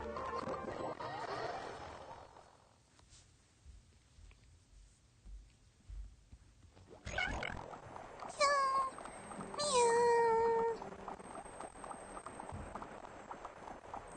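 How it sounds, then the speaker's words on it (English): Cat meowing in the video game Genshin Impact, two clear rising-and-falling meows in succession over game music and ambient background, moderately loud. "who let a cat into the library?"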